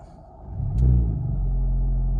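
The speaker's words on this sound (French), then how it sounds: "Voilà, ça ronronne tout de suite." A Renault Megane RS Trophy Phase 2 with a 300 hp engine starts with a push-button ignition, a quick rising rev burst followed by a steady, close, deep idle rumble.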